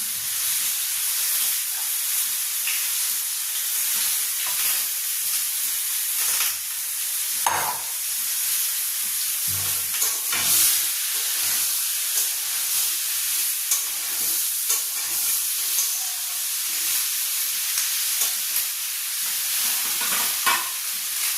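Continuous loud sizzling and hissing from a pan of hilsa fish as a little water, used to rinse the marinade bowl, goes in, steady frying noise throughout with occasional stirring clatters and no speech.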